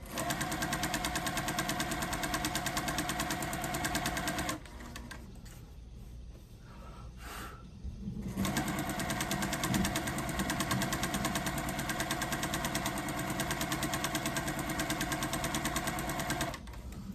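A sewing machine runs steadily while stitching a quilt, a close mechanical whir with rapid even needle rhythm that stops for a few seconds partway through and then resumes at the same pace.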